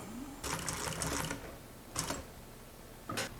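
Consew industrial sewing machine driven by a servo motor, three short bursts of stitching, the first longest at about a second, the others brief, close and moderately loud with no talk.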